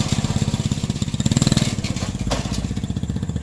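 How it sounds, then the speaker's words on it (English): A small minibike engine with jackshaft gearing chugs in rapid, even pulses close by, its drive chain rattling from a clearance problem. "The chain is rattling because, you know, I said it's got that clearance problem."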